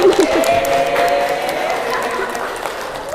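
A classroom group claps together in a burst of applause for a winning team that continues steadily, with some voices mixed in.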